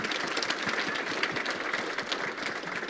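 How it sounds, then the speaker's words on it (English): Audience applauding a panel, a soft, steady spread of clapping heard from a distance, fairly quiet throughout. "Let's give them a round of applause, please."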